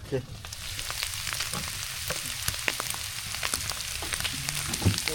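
Freshly caught lake fish fries in a pan on a winter fishing trip, giving a steady, close, crackling sizzle with scattered sharp pops throughout and no talk.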